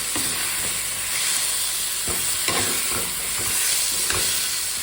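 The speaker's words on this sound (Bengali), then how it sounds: "এখন দিয়ে দেব আলু আর টমেটো পেঁয়াজটা ভালো করে মিশিয়ে নিই" Potato, tomato and onion are stirred in a hot, sizzling pan, with rhythmic scraping strokes of a spoon recurring every second or so over a constant hiss.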